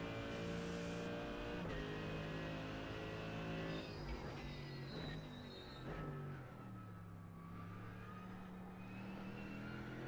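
A Mercedes AMG GT3 race car in the iRacing sim lapping Sebring, its engine droning steadily with rising and falling pitch through gear changes, loud and continuous throughout.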